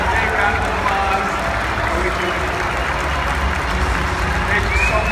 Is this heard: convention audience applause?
yes